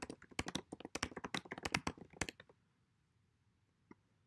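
Quick bursts of keystrokes and clicks on a computer keyboard rattle close by for about two seconds, then stop, leaving near silence with one faint click later.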